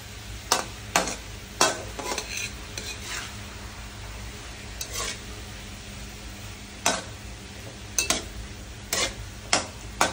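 Alugbati leaves and string beans sautéing in a pan, stirred with a utensil that knocks and scrapes the pan in sharp irregular strokes over a constant close sizzle, with no talking.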